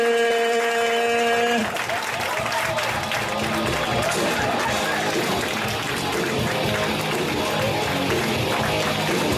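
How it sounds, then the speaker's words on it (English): A comedy show crowd claps steadily after a musical chord cuts off, the applause full and sustained with some cheering mixed in, filling the room for several seconds. "Start clapping right now."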